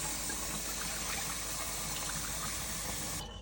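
Running water gushing steadily as potatoes are rinsed in a bowl or sink while preparing them for canning, a continuous close splashing flow that cuts off abruptly at the end.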